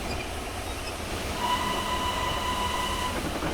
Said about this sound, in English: Train on the bridge.